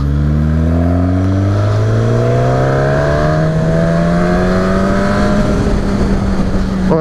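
A 2019 Suzuki Katana roadster motorcycle pulls hard in third gear, its engine note climbing steadily in pitch and staying loud and close, with rushing wind throughout.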